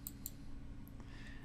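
A couple of sharp computer mouse clicks on an on-screen button while building a Divi website popup, close and crisp, each a brief tick over faint room hum, with no talk.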